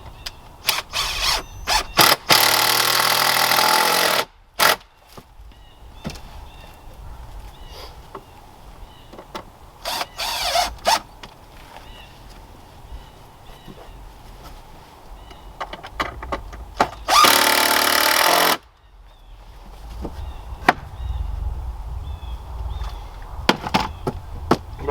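A power tool cuts wood for a cabin bed in a few loud, harsh bursts of a couple of seconds each, separated by long stretches of quiet clicks, knocks and handling noises.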